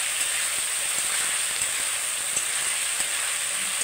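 Fried potato and cucumber are tipped into hot spiced oil in a pan, setting off a loud, continuous sizzle with steady hiss and small crackles, close up and with no voices.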